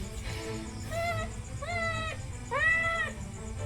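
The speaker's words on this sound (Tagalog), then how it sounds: "Yung pinakamatabang pusa pa na may naipit." A fat cat with its head stuck meows three times in a row, each cry rising and falling, heard close over a low background rumble.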